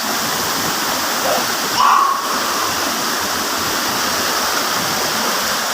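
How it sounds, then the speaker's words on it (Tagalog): Kalanay Falls pours in a constant, loud, broadband rush of falling water, steady throughout with a brief voice sound partway through. "Ganda, Kalanay Falls."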